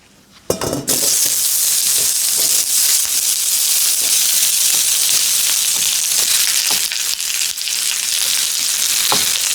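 Onions dropped into hot vegetable oil in a pan burst into a loud, dense, continuous sizzle, with a few clinks of utensil against pan.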